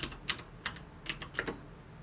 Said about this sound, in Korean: 엔터 버튼 누르셔서